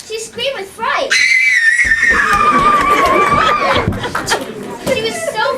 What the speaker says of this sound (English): She screamed with fright.